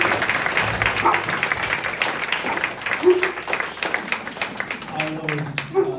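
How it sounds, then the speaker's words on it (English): Audience applause at a town hall meeting on data centers, a crowd clapping steadily with some voices and cheers mixed in, moderately loud and fading slightly toward the end. "can we give these guys a round of applause?"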